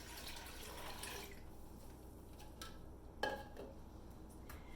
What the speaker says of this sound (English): I'm going to add an additional 4 cups of water.